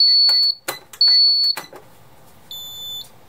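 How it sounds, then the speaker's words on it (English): An ITI SX-V security alarm system sounds its piezo siren in sharp, piercing high-pitched bursts, broken by clicks and knocks, with a final short tone near the end. "But the siren that SX5s use is actually a piezo siren."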